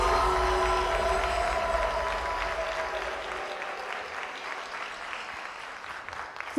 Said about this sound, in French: On en applaudit bien fort.